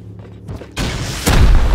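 Rockets fired in a video game: a sharp, loud boom bursts in after faint rumbling, followed by a second heavy blast with a deep low-end roar.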